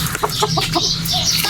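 Chickens at a bird market cluck close by, given fresh water, with a quick run of short clucks over the first second before a fainter call, set against a steady market background.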